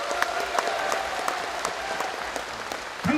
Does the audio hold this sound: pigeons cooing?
no